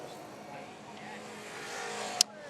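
A Formula Student race car runs past on a circuit, a steady, moderately distant engine drone that builds slightly toward the end, with a brief sharp click near the finish.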